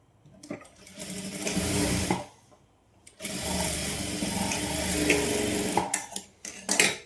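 Close, whirring bursts from a sewing machine stitching a saree blouse, two long runs separated by a pause, followed by short stop-start stitches at the end.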